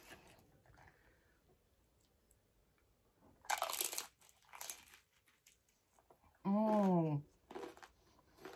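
Crunchy fried tacos dorados filled with potato and ground beef are bitten and chewed, giving a few sharp, close crunches between quiet stretches, with a brief voiced sound near the end.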